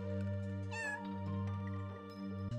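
A cat meows repeatedly up close in a quiet room, its harmonic cries sustained and steady, with a voice speaking softly to it at times.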